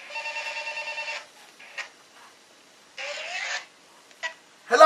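A telephone ringing in two trilling bursts separated by a quiet gap, with small clicks and a brief noise at the end.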